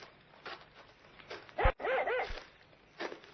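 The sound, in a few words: dog barking excitedly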